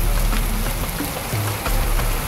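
Downpour of heavy rain, a loud, unbroken wash of drops pattering on surfaces nearby, steady throughout.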